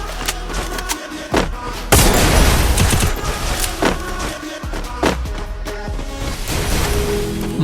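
Gunfire from a Free Fire custom 1v1 match rattles loudly in dense bursts and single booming shots, with brief gaps between volleys and continuous in-game noise throughout.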